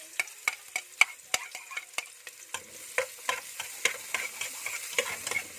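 An onion is sautéed in a pot for chicken kabsa, with a soft, continuous sizzle beneath repeated sharp clinks and scrapes of stirring that come at an irregular rhythm.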